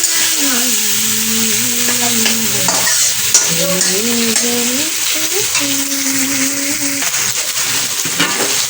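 Spicy fish curry with tomatoes cooks in a pan, a steady close sizzle with stirring scrapes throughout, while people talk over it.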